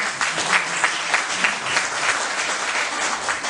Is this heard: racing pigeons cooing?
no